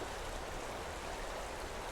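A river flows with an unbroken, soft broadband rush of moving water, even and fairly quiet throughout.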